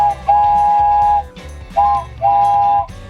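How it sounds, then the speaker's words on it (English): Toy train whistle with three tubes sounding harmonising notes together, blown in three bursts: one long blast, then two shorter ones close by and loud. "There's also a train whistle. Because there's 3 tubes, it makes 3 different notes that all harmonise with each other."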